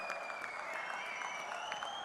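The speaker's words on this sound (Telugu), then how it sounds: "గట్టిగా చప్పట్లు కొట్టి మనస్ఫూర్తిగా అభినందించండి" Steady applause from an audience at a political party donation event, a continuous crackle of clapping over 2 seconds with faint crowd murmur beneath.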